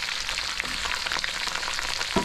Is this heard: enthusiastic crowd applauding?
no